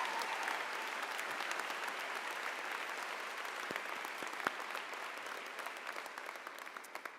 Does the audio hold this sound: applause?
yes